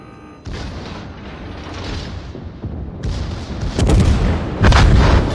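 A USS Alaska fires its 305mm guns at close range on an enemy Iowa in World of Warships, with a steady battle rumble building into heavy booming salvos near the end, loud and without talk.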